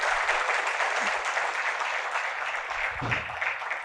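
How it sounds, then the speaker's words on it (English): Audience applause at an electric vehicle ecosystem launch event, a steady, dense wash of clapping that holds at an even level throughout with no voices over it. "So a big round of applause for them."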